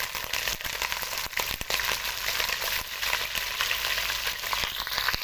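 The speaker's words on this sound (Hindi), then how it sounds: "अब इसके अंदर हम चिकन ऐड कर देंगे।" Chicken pieces hit hot ghee in a pot for a degi-style shahi korma, giving a loud, continuous sizzle with crackling spatters and occasional stirring scrapes throughout.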